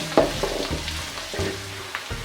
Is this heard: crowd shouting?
no